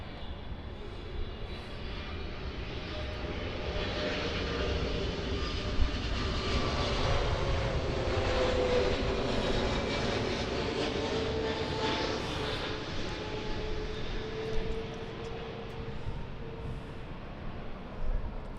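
A British Airways airliner arriving from London Heathrow passes overhead at LAX, a continuous jet-engine roar that swells and then slowly fades over several seconds, with a wide hiss and a low rumble.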